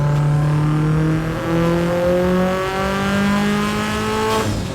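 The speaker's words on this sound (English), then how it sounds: "let's see what happens when you put equal length headers on a Subaru" A Subaru flat-four engine fitted with equal-length headers revs up steadily, its smooth, even tone rising and falling with no speech, loud and close.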